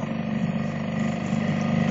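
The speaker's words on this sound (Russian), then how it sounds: "Мотор Ханкай 4 лошади." A 4 HP Hangkai outboard motor runs steadily near idle on a small budget boat with a rigid transom, giving a close, even, buzzing hum.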